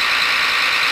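A tractor engine in the farming video game Farming Simulator 14 gives a brief, steady mechanical hum at constant loudness, with no voices.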